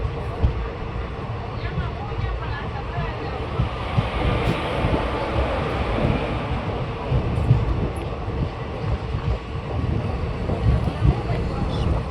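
An Indian Railways passenger train on the Junagadh to Lathi route pulls into Jetpur station, a steady low rumble of wheels and carriage noise heard from on board, with a voice talking over it.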